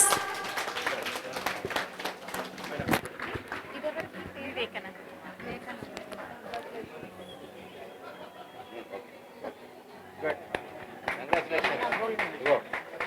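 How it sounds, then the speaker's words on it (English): An audience applauds at a convocation ceremony after a gold medal award, scattered claps and crowd chatter under ongoing talk and movement, swelling again near the end. "Can we please have a huge round of applause?"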